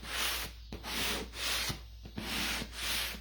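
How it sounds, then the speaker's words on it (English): A painted wooden chair sanded by hand with a 400 grit sanding sponge, steady rhythmic back-and-forth rubbing strokes, close and alone. "So just a 400 grit sanding sponge."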